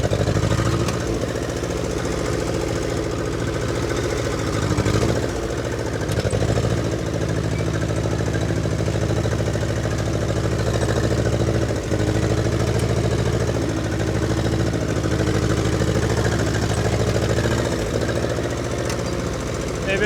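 An old 1952 Ferguson TEA 20 tractor engine chugs and knocks steadily at close range while ploughing a garden, with occasional clunks and a rough idling rhythm throughout.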